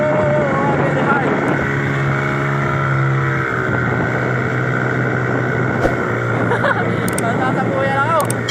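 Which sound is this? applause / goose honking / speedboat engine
speedboat engine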